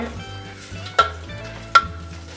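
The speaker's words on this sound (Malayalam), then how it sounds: "സവോള നന്നായിട്ട് വഴറ്റിയെടുക്കണം." Chopped onions with salt sizzle and fry in a pan for a Kerala-style beef roast, a steady low sizzle broken by two sharp stirring scrapes.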